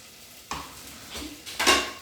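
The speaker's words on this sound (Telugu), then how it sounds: "బాగా మిక్స్ చేద్దామండి ఇది కొద్దిగా ఫ్రై కావాలండి" Drumstick masala curry with salt, garam masala and coriander powder being stirred and fried in a pan: a quiet sizzle broken by a few short, scraping spoon strokes that grow louder toward the end.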